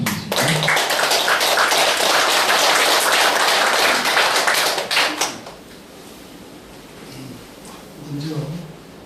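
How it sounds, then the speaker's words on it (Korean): An audience at a book launch for a Buddhist monk applauds a speaker being welcomed: dense, steady clapping for about five seconds that fades out, after which faint voices carry on. "큰 환영의 박수 부탁드리겠습니다."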